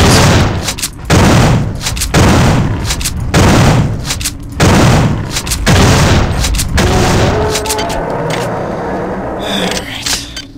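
Repeated loud, booming shotgun blasts from the first-person shooter System Shock 2, firing in a steady rhythm of heavy reports with short gaps, then fading into a quieter rumbling ambience.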